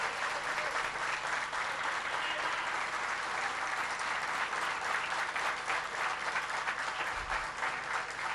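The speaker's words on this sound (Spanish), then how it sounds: "da un aplauso para la compañera" Sustained audience applause at a political speech in Colonia Bañaderos, Formosa, steady and dense for the whole stretch, welcoming a new senator, with no voices rising above it.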